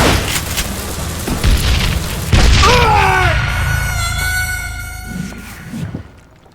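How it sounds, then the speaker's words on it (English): A dynamite explosion in the video game Call of Juarez: Gunslinger, a heavy boom with rumbling debris, followed by gliding tonal sounds and a fading tail. "Who said you could throw dynamite?"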